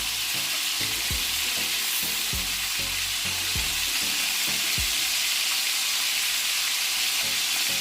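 Seekh kabab and green chillies frying on a tawa, sizzling loudly and steadily up close, with a few sharp clinks and scraping stirs of a utensil against the pan.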